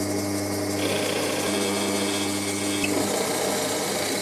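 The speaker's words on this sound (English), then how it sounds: "So I'm going to drill two holes" A steady, close power-tool whine runs throughout, a continuous droning drill sound as a Forstner bit bores holes in wood, with a brief dip partway through and no talking.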